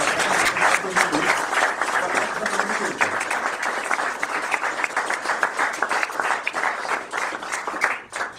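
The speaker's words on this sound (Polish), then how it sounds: "poproszę o brawa dla klubu Klimat" Applause for the Klimat club rings out at an award ceremony, a full crowd clapping in a dense, steady roar with a few voices mixed in, thinning slightly toward the end.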